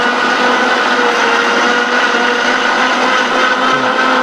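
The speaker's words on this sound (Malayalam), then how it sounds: "നമ്മൾ മിക്സിയിലിട്ട് ഏകദേശം അടിച്ച് വെള്ളപ്പരുവാക്കിയിട്ടുണ്ട്" A mixer grinder blends chunks of watermelon into juice with no water added, a steady, loud, unbroken motor whine that holds close and constant throughout, with no voices over it.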